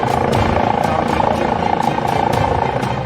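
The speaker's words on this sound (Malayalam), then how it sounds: "helicopter Ernakulam Hayat helipad ഗ്രൌണ്ടിലെത്തി" A helicopter carrying a donor heart arrives at the Hyatt helipad grounds in Ernakulam, its rotor thudding in a fast, regular beat, loud and near, with voices faintly underneath.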